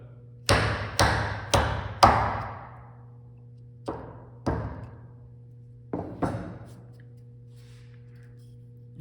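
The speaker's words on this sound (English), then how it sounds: "My chisel's not wide enough to go all the way across in one go, so I'm going to have to take a second swipe." A chisel strikes into wood while cutting a mortise for a Chinese/Japanese style mortise and tenon joint: sharp close thuds in clusters, four quick blows, a pause, two more, then two again, over a faint steady hum.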